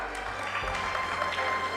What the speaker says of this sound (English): round of the applause, please